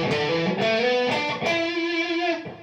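An Entwistle EST100 budget electric guitar on its middle pickup plays a short run of sustained, slightly driven notes and chords, clear and close with no talking.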